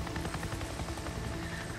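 A helicopter in the video game Days Gone, a steady rhythmic rotor thump with a whining engine drone, continuous and fairly loud with no voices.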